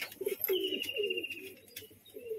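Roller pigeons coo in a loft on a sunny day, with a run of soft, throaty, repeated coos close by and fairly clear, joined by a faint higher bird call.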